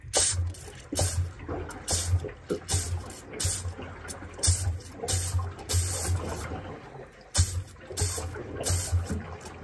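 Water rushes and gurgles through pipes into a water heater tank being refilled after flushing, in repeated surges, rising and falling every second or so, with no voices.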